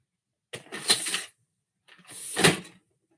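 Two drawers slide open or shut in turn, each a short scraping rumble with a bump, separated by a brief pause and close to the listener.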